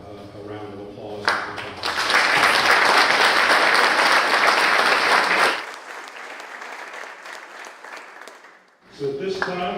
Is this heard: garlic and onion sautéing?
no